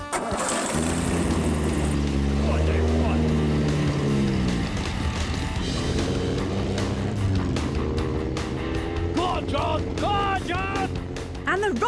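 A scrapheap-built land speed record car's engine misfiring on sand, a rough, uneven sputtering drone throughout, with voices talking over it.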